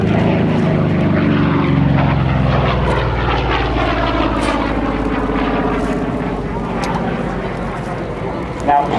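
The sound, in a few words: F4U Corsair radial aircraft engine running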